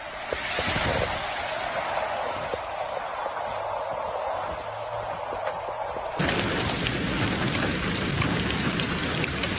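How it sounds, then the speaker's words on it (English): Heavy rain pours in Mecca during a hailstorm and flooding, a dense continuous hiss of downpour striking surfaces, growing harsher and louder partway through. "Due to heavy rains, some parts of the city were flooded."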